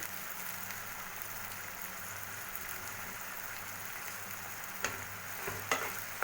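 Capsicum and beans with salt frying in a pan, a steady soft sizzle running throughout, with a few sharper clicks of a spoon near the end.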